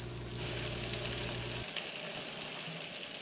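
Food frying on a wood heater during a mid-morning breakfast, giving a steady close sizzle with a low hum that cuts out partway, leaving the crackling alone.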